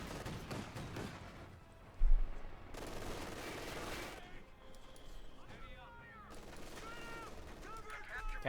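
Bursts of machine gun fire in the Company of Heroes 2 strategy game, with a sharp crash near the start and scattered battlefield shots, fairly quiet, under a commentator's speech.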